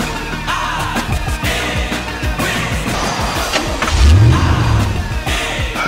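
A car engine revs hard and accelerates, loud and close, with a deep surge near the end and no talking over it.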